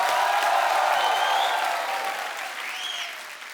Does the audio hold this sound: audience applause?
yes